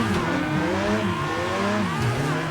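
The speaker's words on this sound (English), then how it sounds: "So now you're seeing me at full drift capacity." A car drifting with the handbrake on the Lime Rock track in Assetto Corsa, its engine roaring loud and steady with shifting revs, a continuous high drone that rises and dips throughout.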